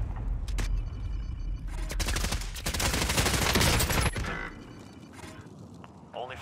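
Rapid bursts of automatic gunfire from the video game Warzone rattle in dense clusters over several seconds alongside mechanical clicks, with a player's voice talking over the shooting.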